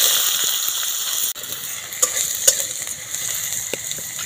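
Potatoes frying in hot oil in a wok give a loud, steady sizzle with close crackling, and a few sharp clicks and scrapes of a utensil punctuate the hiss.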